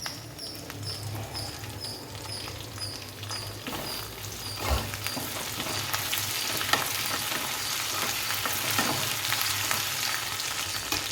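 Cumin seeds, curry leaves and dried red chillies fry in hot oil with a dense, continuous crackle and spattering sizzle, punctuated by a few sharper pops and stirring clinks, close and steady without speech.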